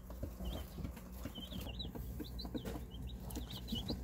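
Young chicks, hatched alongside a flock of Rhode Island Reds, a Speckled Sussex rooster and Cream Legbars, give repeated high, thin peeps close by over a steady low rumble, with some clucking from the birds.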